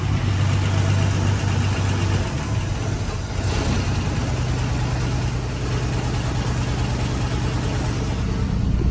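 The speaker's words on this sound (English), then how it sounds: "watch when I put it in the drive. It'll idle smooth for just a little bit and then it'll just go rough." A car engine idles steadily and loudly up close after being shifted into drive, a continuous low rumble that turns rougher and more uneven partway through, with no talking.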